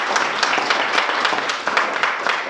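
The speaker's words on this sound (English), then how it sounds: "can we have a round of applause for our speaker?" Small café-science audience at a museum claps for the speaker, a brief, close burst of scattered applause.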